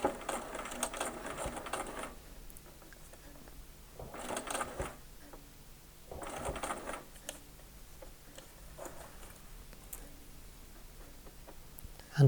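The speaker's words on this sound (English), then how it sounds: "as I approach the point where I need to stop, I need to make my stitching shorter." A sewing machine stitches an eight point star quilt in three short bursts, each a couple of seconds long and close by, with quiet pauses between them.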